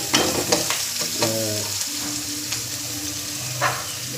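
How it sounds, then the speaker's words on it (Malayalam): Vegetables sizzle and fry steadily in a hot pan in a Kerala kitchen while being stirred, with scraping strokes, loud, close and continuous throughout. "വരട്ടിയെടുത്ത് 1 മിനിറ്റ് ഒന്ന് വരട്ടണം"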